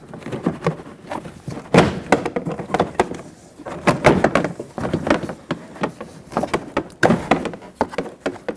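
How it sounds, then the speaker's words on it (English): Repeated sharp plastic snaps and thuds as a rear door panel is pried off a 1998-2011 Ford Ranger extended cab, irregular bursts of clicks and knocks close by with no talking. "now it's just a matter of popping the door panel off"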